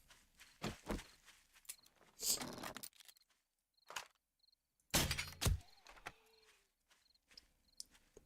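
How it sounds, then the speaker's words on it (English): Deer footsteps in the survival game 7 Days To Die, a few scattered thuds and shuffling steps close overhead, with quiet gaps between bursts and faint insect-like chirps in the background. "So most of those footsteps we were hearing right over our head were this fucking deer."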